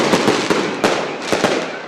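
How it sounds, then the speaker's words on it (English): Fireworks over Manger Square in Bethlehem on the night the Christmas lights go on, a loud close crackle with several sharp bursts in quick succession. "Fireworks on the night the Christmas lights went on in Manger Square in Bethlehem"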